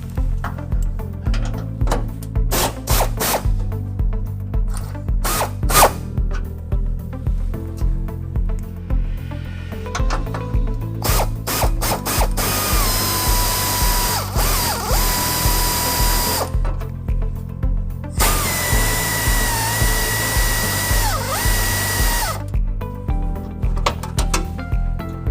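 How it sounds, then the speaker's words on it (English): An impact or power drill whirs in repeated loud bursts while loosening the bumper bolts on a 2005 Toyota Tacoma during a trailer hitch installation, with a few short pauses between runs and no talk. "we're going to take these bumper bolts up here and we're going to loosen them about halfway."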